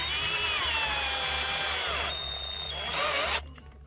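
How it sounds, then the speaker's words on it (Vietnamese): A power drill drives screws into wood planks while a small wooden dog house is built. Its motor whines loudly and steadily for several seconds, then briefly shifts pitch and cuts off at the end. "lấy khoan với vít lại đây đi"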